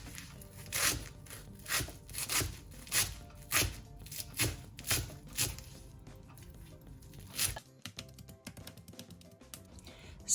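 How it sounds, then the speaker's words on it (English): A knife chops fresh washed coriander leaves finely on a board, a steady run of about a dozen close, crisp taps that stops partway, leaving quiet handling noises. "I'm just going to try and chop it as finely as possible"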